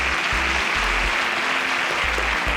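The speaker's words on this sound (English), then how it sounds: "A round of applause for Juwon." Applause from a studio audience on a Nigerian show, a steady wash of clapping throughout, with a low rhythmic thumping underneath.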